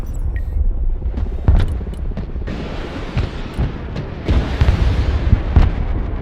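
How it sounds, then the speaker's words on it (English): Cruise missile strike in the war strategy game Broken Arrow: a deep rolling explosion with layered booms and rumbling aftershocks, loud and sustained, with a few sharp cracks over the low roar. "That cruise missile."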